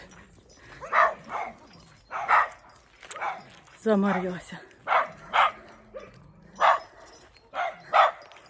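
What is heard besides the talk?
dogs barking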